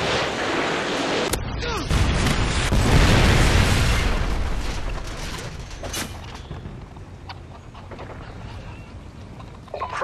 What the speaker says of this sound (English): Predator missile